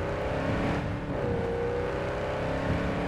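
Quadra Type 66 Javelina muscle car in Cyberpunk 2077, its engine and exhaust droning steadily and close with a rising harmonic tone, no talking.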